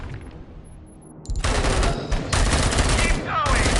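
Rapid automatic fire from a Cobra assault cannon in a Dead by Daylight video game bursts in loudly after a quieter opening and continues as a dense, sustained fusillade, with faint game voices underneath.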